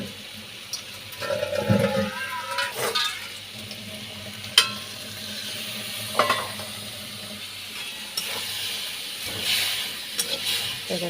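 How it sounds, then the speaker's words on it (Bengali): Fried ivy gourd being stirred in a pan with poppy seed paste and a splash of water, soft sizzling and wet scraping with intermittent clinks of the utensil against the pan, close and moderately quiet. "জল দিয়ে এটাকে সুন্দরভাবে মিশিয়ে নেব নাড়ার সাথে।"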